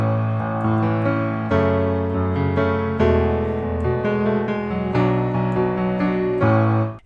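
Solo piano plays the chorus of a song in a stripped-down style, sustained chords shifting every second or so with broken-chord movement, close and clear with no talking.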